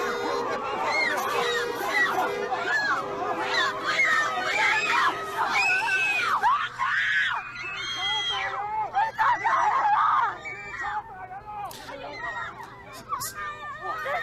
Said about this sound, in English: We don't need the screaming.